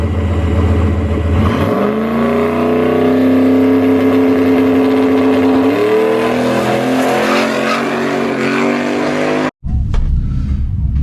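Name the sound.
race car engine accelerating on a test pass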